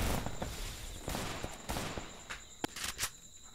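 Gunfire from the Free Fire Max video game training ground: a quiet run of sharp, irregular shots with short gaps between bursts, heard alone.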